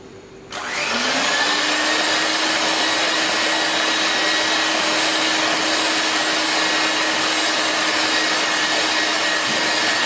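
An electric mixer starts up and runs steadily at a loud, constant whine, beating powdered sugar into fondant mixture, with no pauses and no talk.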